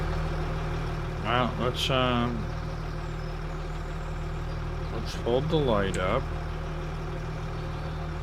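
A tractor engine idles steadily in Farming Simulator 25 on an American farmland map, a constant low drone running throughout beneath occasional speech.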